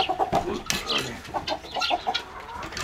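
Chickens cluck in short, repeated bursts close by, with a busy, uneven rhythm of soft clucks and squawks.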